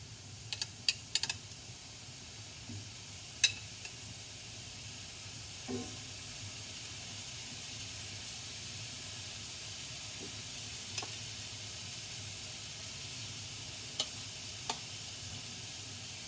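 Marinated poke bowl pieces in sesame seed oil marinade sizzle steadily in a pan, a soft continuous frying hiss with a few sharp pops and clicks scattered through, close by and without speech.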